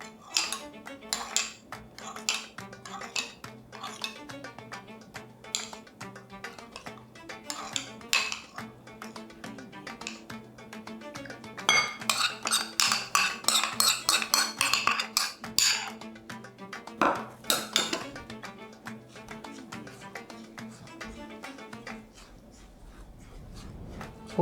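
Utensil stirs semolina and almonds coated in melted butter for basboussa, giving repeated scraping and clinking against the dish, fairly steady and close, with busier clattering toward the middle and no talk.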